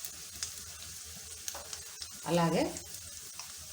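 Chana dal frying in hot oil with dried red chillies and curry leaves, a soft continuous sizzle with light stirring clicks, under a brief spoken word.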